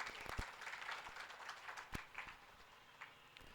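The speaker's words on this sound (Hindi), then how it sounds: "तालियां बजा दो" An audience claps through a short burst of steady, fairly quiet applause with a few sharper individual claps standing out.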